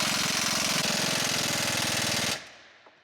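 Impact wrench or air tool rattling steadily on torque rod bushing bolts of a semi truck, a dense loud hammering burst lasting over two seconds before cutting off abruptly into a quiet workshop.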